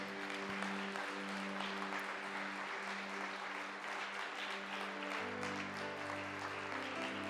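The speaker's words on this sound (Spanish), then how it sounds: "Le damos un fuerte aplauso al Rey por eso" A church congregation at a Maranata ministry service claps together in praise, a sustained wash of applause over steady organ or keyboard tones, with the sustained notes shifting lower near the end.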